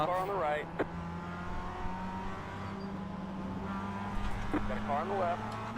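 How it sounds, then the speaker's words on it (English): Mazda MX-5 race cars in iRacing at Daytona, engines droning steadily with rising harmonic sweeps as a car accelerates and passes close by, continuous under the race mix. "Car on the right."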